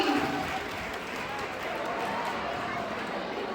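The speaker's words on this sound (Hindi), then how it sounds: "जोरदार तालियां आपके लिए भी।" Loud, steady applause fills a staged comedy act in which contestants are introduced before an audience, a dense wash of clapping that holds evenly from start to finish with no voices above it.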